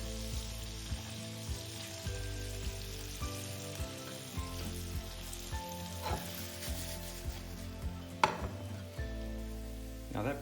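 Bread cubes fry in melted butter in a pan, giving a steady close crackling sizzle with small stirring ticks and a louder clack near the end, over faint background music.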